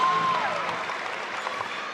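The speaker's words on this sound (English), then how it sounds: "we heard the cheers from the crowd" Basketball crowd in an MPBL game between Marikina and Pangasinan cheering after a made free throw, a steady broad roar of many voices with a short whistle-like tone at the start, sustained throughout.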